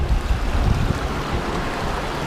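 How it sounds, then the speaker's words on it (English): Wading through the Virgin River in the Narrows, water churning and splashing in a loud, continuous rush with low rumble and wind buffeting the microphone, no talk. "We're gonna trek through the water in our water shoes and our water pants."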